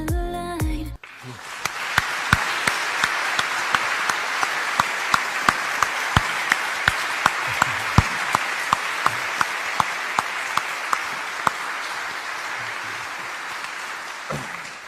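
A studio audience claps in a dense, sustained burst of applause lasting over ten seconds, steady and fairly loud before fading at the end.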